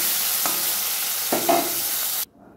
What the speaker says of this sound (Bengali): বন্ধুরা, পরবর্তী মাছগুলি আমি দিয়ে দিলাম।